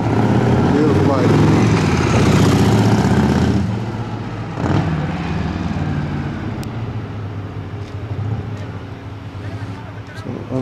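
A 1974 Harley-Davidson FLH motorcycle with original paint idles nearby with a steady low rumbling throb, louder at first and then settling slightly, while someone talks over it.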